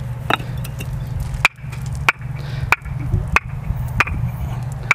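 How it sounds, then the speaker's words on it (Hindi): Fired clay bricks struck together at a brick works, each strike a sharp metallic-sounding clink; roughly eight distinct knocks at uneven intervals over a steady low machinery hum, close and clear, with no talking. "ये हमारी ईंट की क्वालिटी देखिए, आवाज़ देखिए, टन टन आवाज़ करती है, बिल्कुल टन टन जैसे लोहा बज रहा हो।"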